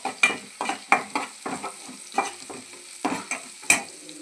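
Ginger and garlic being stirred in a hot pan for a village-style beans curry, with a spatula scraping in quick, repeated strokes over a faint sizzle, close and fairly soft.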